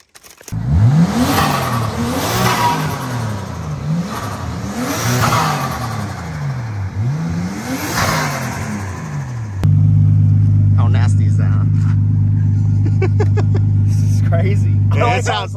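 An imported JDM car engine revs repeatedly in rising and falling sweeps, loud and close, then settles into a steady rumbling idle while a person talks over it.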